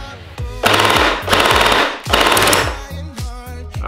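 An M249 V3 gel blaster LMG toy gun, fed with hardened gel balls, whirs and rattles in loud sustained mechanical bursts, three long runs followed by shorter choppy cycling.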